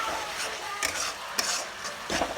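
Spices roast in a pan for Chhattisgarh suski saag with a quiet sizzle, broken by several sharp spoon clicks and scrapes against the pan, and a louder stir near the end.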